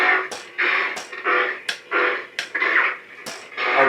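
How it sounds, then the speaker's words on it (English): Saberforge Heretic lightsaber with a Tri-Cree RGB LED and NEC Spark 2 R4 board, striking a series of short, punchy clashes that each burst loudly and then crackle with static over a wavering hum, about six in under four seconds. "very staccato sounding clashes that have some power behind them, and then obviously have that staticky sound behind each one of them"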